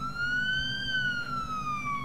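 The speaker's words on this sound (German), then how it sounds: "Kann der mal aufhören mit seiner Sirene, die nervt." Police car siren wailing continuously in the video game Police Simulator, a steady electronic tone with slow pitch sweep, loud and close throughout.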